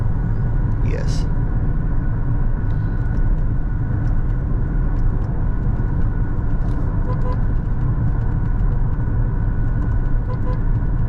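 A Lexus NX350h hybrid cruises on a highway at about 1500 RPM, a steady low engine and road drone with tyre rumble and a brief faint horn-like tone early on.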